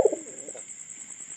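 A pigeon gives a short, soft coo close by at the very start, followed by quiet, with a steady high electrical whine running underneath.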